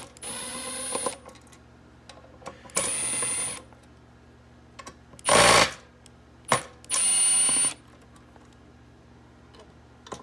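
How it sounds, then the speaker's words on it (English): A Milwaukee cordless power tool gun whirs in three short bursts of about a second each as it removes board screws from a Honda P75 ECU, with quiet clicks and a brief rattle between the runs. "So I'll go ahead and remove the board real quick with this Milwaukee gun."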